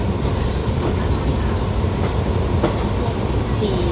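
A diesel railcar on a suburban line from Bangkok to Chachoengsao runs along the rails with a steady loud rumble and faint rhythmic wheel clicks.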